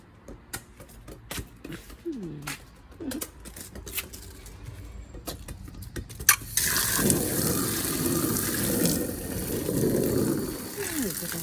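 Running water gushes out to wash a garden area, starting abruptly partway through as a loud, steady splashing flow after a stretch of quieter clattering and handling sounds.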